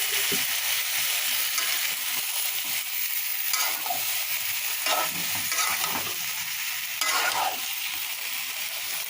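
Pressure-cooked boiled vegetables tipped into hot tempering oil and stirred: a constant loud sizzle overlaid with repeated scraping and stirring strokes, no voices.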